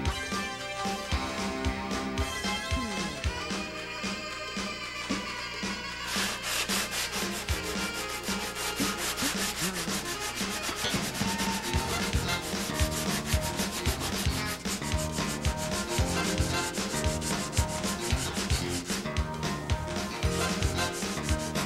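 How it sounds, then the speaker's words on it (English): Body filler on a minor car dent being sanded by hand with 80 or 100 grit sandpaper, a steady rhythmic scratching of close, repeated strokes running continuously without speech. "Switch to 80 or 100 grit to finish the sanding"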